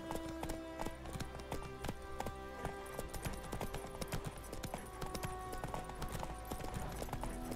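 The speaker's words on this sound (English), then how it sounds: "the sounds of the horse" Steady clip-clop of horse hooves in a walking rhythm in The Witcher 3, close and clear, over a low musical bed with other ambient game sounds.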